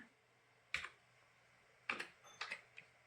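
Keys tapped on a computer keyboard while a mobile number and captcha are entered on a voter list website, a few sparse, separate clicks in a quiet room with no talking.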